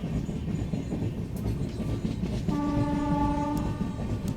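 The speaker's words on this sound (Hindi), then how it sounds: "हमारी एपी एक्सप्रेस अब धीरे धीरे कोहरे को पछाड़ते हुए आगे बढ़ रही है" The 20805 Andhra Pradesh Express passenger train rumbles steadily through fog between Gwalior and New Delhi, with a long, loud horn blast joining the running noise partway through.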